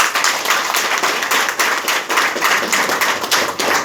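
An audience claps after a call to applaud at a Hindi sales presentation, a dense, steady patter of many hands at close range that carries on evenly.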